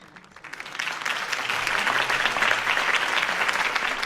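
Crowd applause swells up after a campaign speech by Harvey Dent in Batman: The Telltale Series, a dense, steady clapping that builds within the first half second and holds loud with no voices over it.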